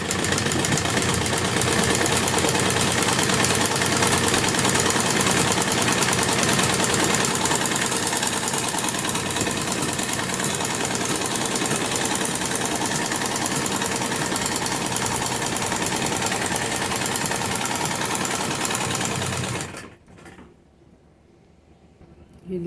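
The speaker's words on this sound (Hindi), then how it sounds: "दोनों तरफ हम एक एक सिलाई से अटैच करते हुए एक एक लहर लगाएंगे।" A sewing machine stitches salwar fabric, attaching a wavy trim along the cuff. It gives a loud, steady mechanical whir for about twenty seconds, then stops abruptly.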